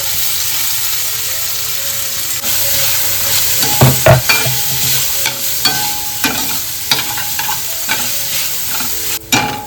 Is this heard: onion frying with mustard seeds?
yes